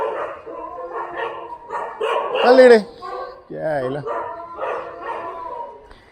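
Dogs bark and yelp in short bursts, with a rising howl-like cry midway, mixed with a voice calling out and talking near the barking.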